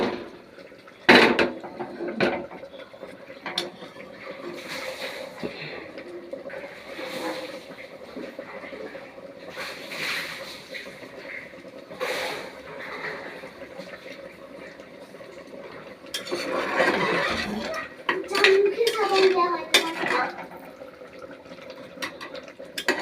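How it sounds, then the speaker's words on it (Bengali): Food is stirred and sautéed in a pan until the oil separates, with intermittent scraping and clattering strokes and soft sizzling at moderate distance, busier toward the end. "কষিয়ে কষিয়ে এটাকে ভালো করে নেড়ে নেবো।"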